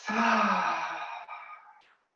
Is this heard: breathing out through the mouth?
yes